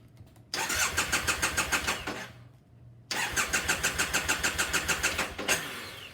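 A Triumph Bonneville motorcycle is cranked twice by its starter, two loud rhythmic cranking bursts of about two seconds each separated by a pause, with a brief roar at the end.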